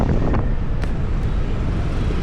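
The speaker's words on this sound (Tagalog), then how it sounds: "lakas na hangin" Strong wind roars steadily against the microphone in Divisoria, Manila, a constant heavy rushing buffet with no pauses.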